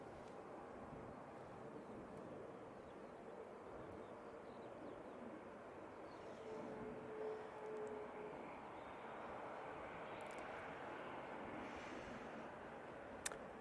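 An Airbus A320neo jet at Manchester Airport gives a faint, distant roar, a broad steady rumble without clear peaks, heard from afar with no talking.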